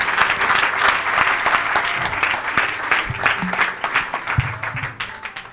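A church congregation cheers and applauds the Lord at a revival service, with dense, steady clapping and scattered shouts that carry on at full volume through the whole stretch.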